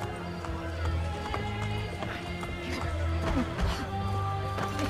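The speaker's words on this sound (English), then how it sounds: "It is kind of a little bit clumsy to be riding a horse in this city." Hooves clip-clop at a quick gallop as a horse runs through a crowded city in the video game Assassin's Creed Brotherhood, a loud rhythmic pounding that carries on throughout with no voices over it.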